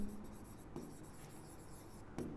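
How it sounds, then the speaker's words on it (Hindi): Pen scratching across paper while working a coordinate geometry maths problem, quiet intermittent strokes and scrapes with brief pauses, close and faint, no talking. "तो यहाँ लिखना है"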